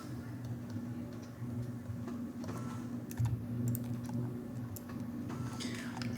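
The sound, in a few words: typing numbers into a calculator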